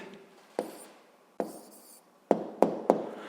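Pen strokes on paper as a physics test answer is written out by hand, five short scratchy taps and scribbles spaced unevenly, close and fairly quiet with no talking.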